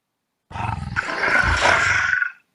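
A big cat lets out a single loud, rough roar lasting about two seconds, then silence.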